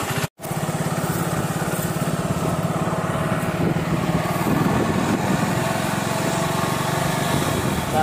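A father's motorcycle engine runs steadily nearby, a continuous buzzing drone with a low rhythmic thrum that holds without pause, loud and close, with no talk over it.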